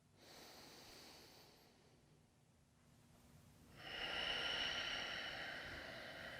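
Slow, quiet breaths during a balance exercise: a soft inhale, a pause, then a longer, louder airy exhale, alone in an otherwise still room.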